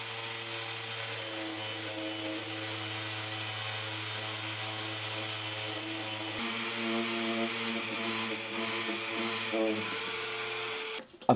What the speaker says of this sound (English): I've given this all a sand down